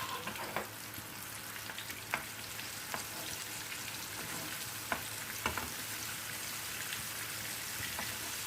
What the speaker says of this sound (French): je vais venir donc frire mes boudins de viande hachée